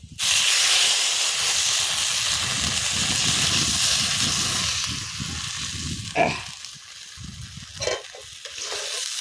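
Cornflour water poured into a pan of frying potato Manchurian sets off a loud, steady sizzling hiss close by, with soft stirring scrapes underneath and a couple of sharper clinks near the end.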